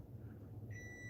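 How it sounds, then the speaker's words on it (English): An appliance emits a steady electronic beep that begins partway through and holds as a clear tone over a low background hum. "We've got our dishwasher beeping at us."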